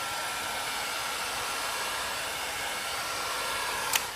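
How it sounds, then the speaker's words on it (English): Heat gun blowing a steady, even rush of hot air, close and constant, with a small click near the end and no voices. "Got the heat gun."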